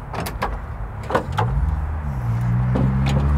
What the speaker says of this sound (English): let me show you this tailgate